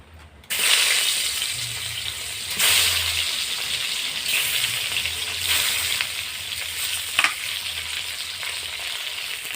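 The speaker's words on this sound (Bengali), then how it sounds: "কড়াতে আবার সরষের তেল দেব। প্রথমে মাছগুলো ভেজে নেব।" Fish fry in mustard oil in a wok with a steady loud sizzle and crackle, broken by several bursts of sharper spattering as pieces are moved, with no talking.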